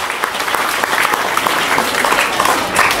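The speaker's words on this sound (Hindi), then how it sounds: "आप इनके लिए भी तालियां बजाई जाए।" Audience at a kavi sammelan and mushaira poetry event in a school hall breaks into steady, dense applause for an invited guest, loud and close throughout with no voices over it.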